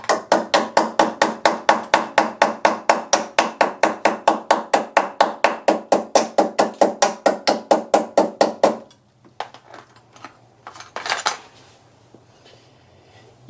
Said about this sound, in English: You didn't really see me use a spanner as a hammer then